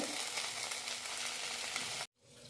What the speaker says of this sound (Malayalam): വെണ്ടയ്ക്ക കഷ്ണങ്ങൾ ചെറുതായി ഒന്ന് ബ്രൗൺ കളർ ആവുന്നത് വരെ വഴറ്റി കൊടുക്കണം